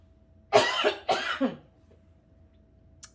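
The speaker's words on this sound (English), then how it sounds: "Sorry, I had to cough." A couple of harsh coughs close to the mic, followed by near silence.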